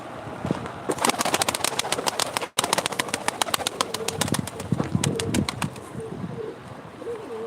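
At a live pigeon auction, pigeons coo and flutter close by, with soft low cooing, rustling and wing flaps, and a run of rapid clicking ticks in the middle.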